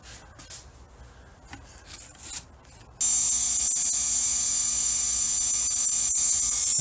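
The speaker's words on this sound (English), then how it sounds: "I have my little battery powered Dremel that I'm going to clean up all the connections that I'm not going to replace." A small battery-powered Dremel runs steadily at close range, cleaning battery cable connections on a Snapper RE riding mower; a continuous high-pitched whine starts abruptly partway through after a few seconds of light rubbing and handling noise.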